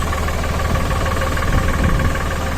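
A Landini farm tractor's diesel engine idles steadily on a cold morning just after starting, a loud continuous low rumble with a faint knocking pulse and no talk over it.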